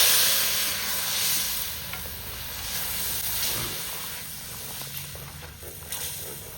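Chili paste sizzling and hissing steadily in a very hot pan over a wood-fired stove, a continuous close frying sound with occasional stirring scrapes.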